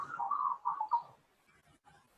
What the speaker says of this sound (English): Oh, I hear the butcher birds in the background, Lisa.